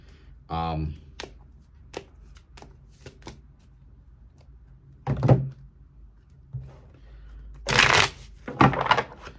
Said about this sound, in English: let's start shuffling up these cards here